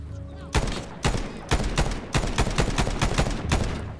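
Rapid gunfire from a rifle in the 2010 video game Medal of Honor, with loud sharp shots in regular short bursts that come close together and run through almost the whole stretch, with no talking.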